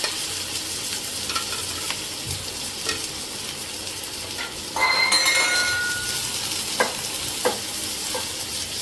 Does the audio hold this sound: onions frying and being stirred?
yes